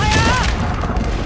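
Booming gunfire in Red Dead Redemption 2, a loud dense volley of shots and thuds crowding a brief moment, with a voice briefly heard over it.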